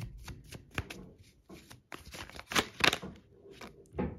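Tarot cards being shuffled by hand in quick riffling bursts, several short flurries with brief pauses between them, close and crisp, no talking.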